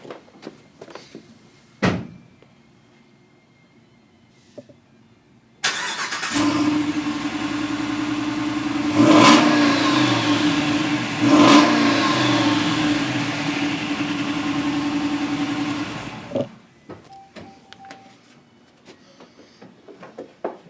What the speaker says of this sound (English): the throaty V8 sound